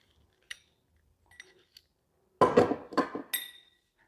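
Copper pipe being cut through, with a few light metallic clicks at first, then a louder burst of scraping, snapping and clattering metal near the end.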